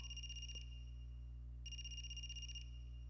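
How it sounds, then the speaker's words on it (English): A trilling electronic telephone ring in the video game AI: The Somnium Files sounds twice with a short pause between, shrill and clear above a constant low background drone. "Is that a phone ringing?"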